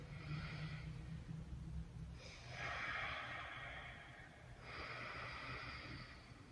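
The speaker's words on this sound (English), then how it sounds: "Taking 2 more inhales and exhales." Slow, deep breaths during a yoga session, three long airy inhale-exhale swells drawn close and soft over a low steady background hum, with no talking.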